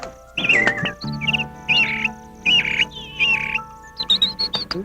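Bright, high-pitched bird chirps come in short repeated bursts, several calls with brief pauses between, fairly close and clear over a quiet background hum.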